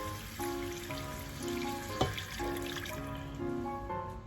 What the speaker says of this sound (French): Et on mouille avec notre demi-litre de bouillon.